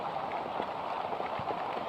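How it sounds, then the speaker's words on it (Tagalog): Heavy rain patters steadily on a surface, a dense even hiss with scattered drop ticks, no one speaking. "Grabe, sobrang lakas ng ulan. Ulan na gid."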